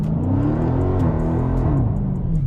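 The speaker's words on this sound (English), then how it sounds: "press brake and quickly apply full throttle" A 2020 Dodge Challenger Scat Pack V8 roars loudly and steadily at close range, held on the brake at full throttle, with engine tone wavering and rising in pitch over a constant heavy rumble.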